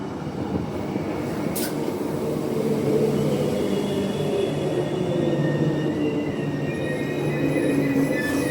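A train on the Ellenbrook Line rumbles steadily out of a siding, a continuous low drone with faint tonal whines that builds slightly as it moves.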